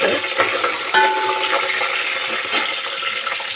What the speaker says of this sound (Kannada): ಪಲಾವ್ ಎಲೆ ಹಾಕ್ತಾಯಿದ್ದೀನಿ ಸ್ವಲ್ಪ ಎಣ್ಣೆ ಚೆನ್ನಾಗಿ ಮೊದಲೇ ಕಾಯಿಸೋಕ್ಕೆ